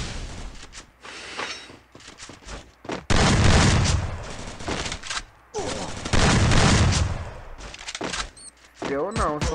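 Gunfire in the Free Fire battle royale game, with loud bursts of rapid automatic shots in several dense volleys, mixed with excited talk between the bursts.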